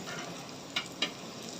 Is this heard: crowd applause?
no